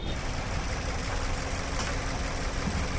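A Maruti Suzuki Ciaz's engine runs at a steady, smooth idle after a general service and clutch replacement, a constant low mechanical hum that stays even throughout, with no voices.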